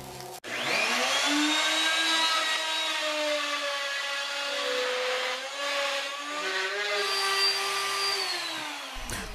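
A handheld router cuts a circle in lacquered MDF for a resin table mould, giving a loud, steady high-pitched whine that holds for several seconds with slight shifts in pitch as the bit works through the board, then stops abruptly.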